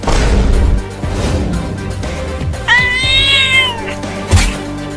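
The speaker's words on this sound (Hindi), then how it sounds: "ये बिल्ली कितनी ढीठ है, इतना काटने के बाद भी कूद रही है काटने के लिए।" Cartoon cat meowing and caterwauling in a comic Holi scene, a loud drawn-out wailing meow rising and falling near the middle, with thumps and other cartoon noises around it.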